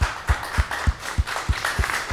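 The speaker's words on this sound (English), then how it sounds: "Give them all a round of applause." Scattered applause from an audience at a Black History Month celebration at the DuSable Museum, with sparse, uneven claps repeating about every third of a second, fairly faint and thin.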